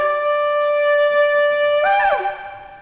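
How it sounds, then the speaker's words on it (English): Shofar, a ram's horn, blown for the Jewish New Year: one long steady sustained blast, loud and close, ending in a rising then falling squeal as the note breaks off. "That's the sound of the ram's horn."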